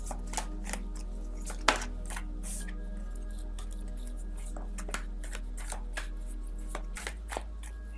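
A deck of cards being shuffled for a tarot reading, heard as a series of soft, close riffling and flicking bursts with light taps, quiet and without talk.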